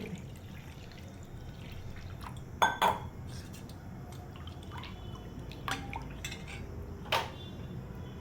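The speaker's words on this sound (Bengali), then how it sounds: "এবার আর একটু পরিমাণে আমি জল অ্যাড করব।" Water added to a fuchka spice mix of coriander, cumin and dried chilli: soft splashes and drips with a few light clinks of a vessel, heard over a steady background hiss.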